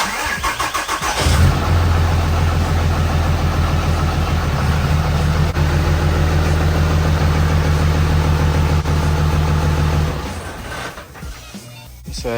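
A single cab pickup truck engine cranks and catches, then idles steadily and loud with a low droning hum for several seconds before cutting off, no talking over it.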